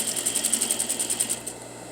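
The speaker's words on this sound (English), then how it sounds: "I'm going to back tack, and then I'm going to go forward" Domestic sewing machine stitching a patch pocket, running in a fast even needle rhythm for about a second and a half, reversing to back tack, then stopping; close and clear with no talking.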